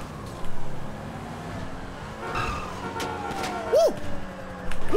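A police siren in GTA V wails with sweeping rising and falling tones amid engine and traffic noise, growing louder in bursts.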